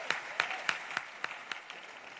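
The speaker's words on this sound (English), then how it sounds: "can clap for that" An audience at a global forum gives a short round of applause: sharp, distinct claps, a sparse handful at first, continuing in a loose rhythm and fading over about two seconds.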